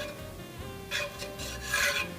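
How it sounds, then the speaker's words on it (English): A spatula scraping across a pan while it is deglazed with port, making two short, close rasping strokes over a quiet background. "Then I'm using a spatula. We're going to deglaze the pan."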